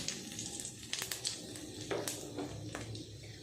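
Panch phoron spices and two dried red chillies sizzling in hot oil, a continuous close crackle with sharp pops and spits scattered throughout.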